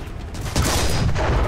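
A tank's main gun fires in War Thunder tank gameplay, a sharp loud boom that cuts in sharply, followed by a dense, ringing rumble of blast and engine noise.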